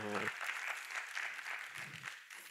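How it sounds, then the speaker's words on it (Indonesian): A youth church service audience claps with steady, fairly close applause, while a speaker talks over it at the start. "tepuk tangan dong buat teman-teman kita yang maju"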